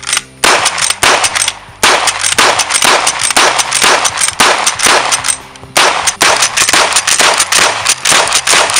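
Rapid, sharp gunshots from a Miroku-made Winchester Model 1873 lever-action rifle, fired in quick succession with brief pauses, loud and close with metallic clanging between shots.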